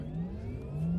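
A Porsche Taycan pulls away under launch control, a steady electric motor whine with a rising tonal sweep and heavy low rumble, loud and close throughout with no talking.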